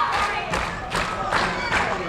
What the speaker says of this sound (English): Great crowd here in the Regent Showcase Theater trying to urge on Brian Cage